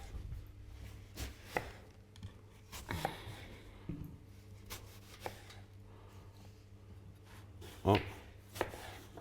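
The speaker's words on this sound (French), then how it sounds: "Donc, je vais couper." A knife slices roast lamb for mechwi into thin pieces, giving a run of sharp, separate cuts and scrapes on a board at an uneven pace, with a little quiet speech in between.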